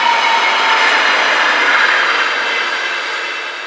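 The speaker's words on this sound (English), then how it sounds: "the short freight train came by and caught me by surprise" A GE443 locomotive hauling a short freight train passes close by at Ems Werk, a loud, continuous rushing roar of wheels and wagons that slowly fades toward the end.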